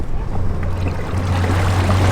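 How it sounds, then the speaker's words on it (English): Water churns and rushes around a Highfield roll-up inflatable boat under way at full throttle, a loud continuous wash with a low Torqeedo Travel electric motor hum beneath it. "There's a lot of like water noise, water turbulence around the boat"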